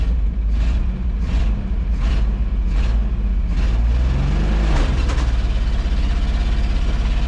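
A 1964 Ford F100, an abandoned old farm truck, roars loudly and steadily as it accelerates for a launch, its engine droning heavily throughout with a rising rev partway through.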